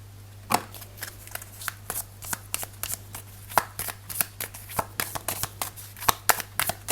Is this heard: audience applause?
no